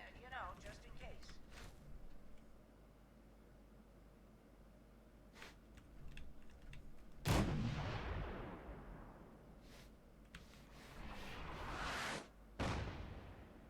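A delayed artillery explosion in the video game Wasteland lands as a sharp loud boom followed by a rumbling decay, with a second blast soon after amid quieter in-game shots and clatter.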